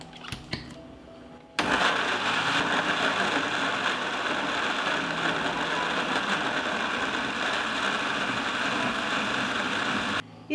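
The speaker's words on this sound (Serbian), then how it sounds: "I sada ću samleti paradajz." A blender grinds cut tomato pieces, starting abruptly with a loud, steady motor whir that runs continuously for about nine seconds before cutting off, heard up close with no talking.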